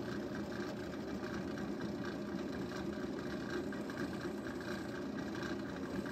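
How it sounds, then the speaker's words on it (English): A drill press doing freehand jeweling, or engine turning, on metal, giving a steady low whirring hum that holds at an even level throughout, with no talk. "what you see me doing here is absolutely freehand jeweling or engine turning"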